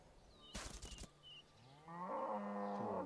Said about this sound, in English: I'm gonna hit a cow with a special attack.